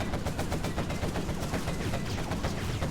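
Quad cannon gunfire in a video game, a dense, continuous stream of rapid shots at close range lasting about three seconds, with no speech.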